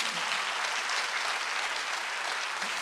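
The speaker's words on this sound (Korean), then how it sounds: "박수하세요." A church congregation at a Korean Sunday worship service claps together in a dense, even burst of applause, loud and sustained for a few seconds.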